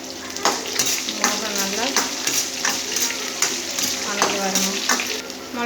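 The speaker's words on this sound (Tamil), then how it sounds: "சின்ன வெங்காயமும் பூண்டும் போட்டுக்கலாம் அதுலேயே போட்டு நல்லா வணக்கிடலாம் கூடவே வரமிளகாய் போட்டுக்கலாம்" Lentils, shallots, garlic and dried chillies frying in oil give a steady loud sizzle, with rhythmic stirring scrapes in the pan throughout, close up.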